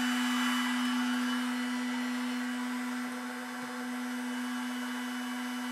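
A CNC milling machine spindle runs at a constant high speed while milling circuit boards, a loud, unwavering whine with a steady motor hum and no other sounds.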